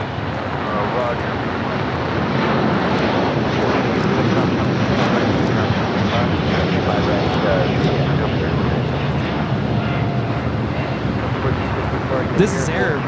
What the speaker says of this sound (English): This is Air Premia 102 taking off to Seoul on the 787-9 Dreamliner